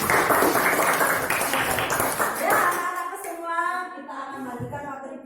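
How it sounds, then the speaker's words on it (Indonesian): Schoolchildren in a classroom clap their hands in a dense, loud burst that fades after about three seconds, leaving a teacher's voice speaking alone. "Pinter, 10. Tepuk tangan."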